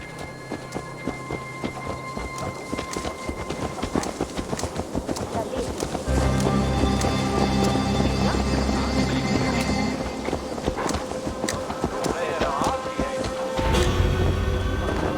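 Horse hooves clip-clop steadily in a video game, a continuous rhythmic trotting that grows heavier midway, layered under dense game ambience and music.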